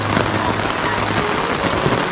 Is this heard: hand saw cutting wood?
no